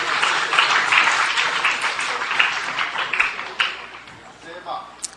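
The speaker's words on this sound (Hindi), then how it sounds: "बजाइए तालियां बुशरा के लिए" An audience applauds Bushra at a Bait Bazi certificate and results ceremony in Aurangabad, India: a dense, steady wash of many hands clapping that thins toward the end, with voices mixed in.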